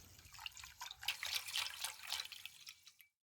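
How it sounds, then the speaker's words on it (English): Rice grains rinsed by hand in water, swished and rubbed: a steady stream of soft splashing, dripping and trickling close by, with no voices, ending abruptly. "Let's rinse the rice in the water. Rub the rice grains gently and discard the water."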